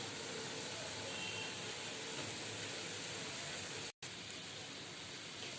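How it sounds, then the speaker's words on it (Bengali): Fish roe fritters shallow-frying over low heat, giving off an even, quiet sizzle that holds steady throughout, broken once by a short gap. "এই যে দেখুন আমি একে একে এইভাবে সবগুলো বড়া ভেজে নিচ্ছি"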